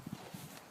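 Soft hoof clip-clops from a horse being offered for a child to ride, a few light irregular steps close by, faint and brief.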